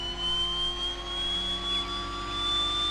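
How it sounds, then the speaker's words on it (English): Engine 2 of a simulated Twin Otter turboprop spools up with a steady, moderate jet-like whine and turbine hum, a continuous even tone with no speech over it. "Engaging starter engine 2."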